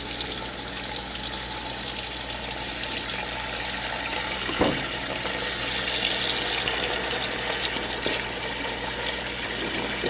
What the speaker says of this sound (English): we're going to fill the pan up with water, about 7 cups of water